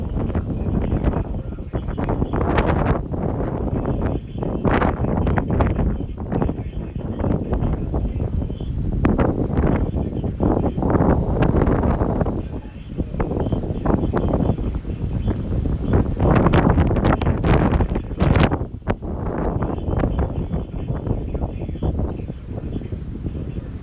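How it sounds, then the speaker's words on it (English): Strong wind gusting outdoors during a dust storm whipped up by a low pressure system, a loud, continuous buffeting roar with repeated surges battering the microphone, no talk. "If I switch outside, you're probably going to hear lots of wind"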